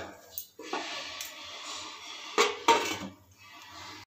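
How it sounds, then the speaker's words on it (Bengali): A lid is set onto a cooking pot of cabbage and moong dal, giving a few short metallic clinks and clatters, the loudest pair near the end, in a quiet kitchen with no talking. "এবার একটা ঢাকা চাপা দিয়ে দেবো"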